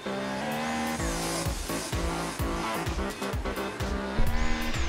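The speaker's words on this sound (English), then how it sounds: "Honda brings on the CRF 450R racing machine" Honda CRF 450R racing motorcycles at an AMA Supercross event, engines revving loud and continuous with repeated rising and falling pitch as the bikes throttle up and shift, a steady roaring mass of motor noise throughout.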